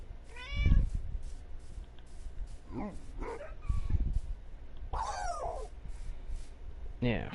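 Minecraft Bedrock cats meow several times, clear and close, with short rising mews spread across a steady game background and some dog-like yips mixed in.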